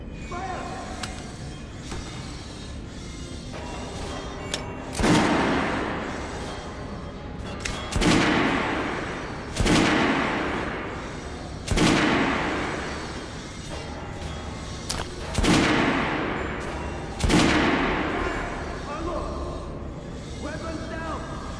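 Volleys of rifle fire ring out at a shooting range in the Metro Redux game, about seven loud sharp bursts spaced a few seconds apart, each with a decaying echo, between shouted commands and talk.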